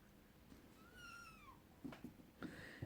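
A cat lets out a faint, rising-and-falling meow, followed by a few soft thumps and a short second cry, all quiet and close in a room.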